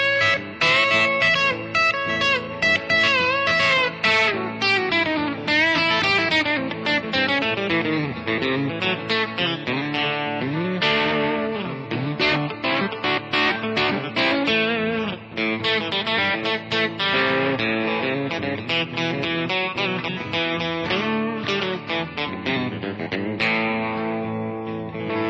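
Telecaster Esquire electric guitar played through its single-coil bridge pickup, strummed chords and riffs with effects and some distortion, loud and continuous with no talking.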